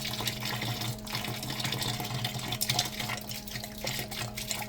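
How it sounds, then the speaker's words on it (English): Sparge water running through the mash during home brewing of a lower-alcohol NEIPA, a steady close trickling and splashing flow with small gurgles, no voices. "So what I'll do is turn this on to start the sparge. And this is where it then flushes out."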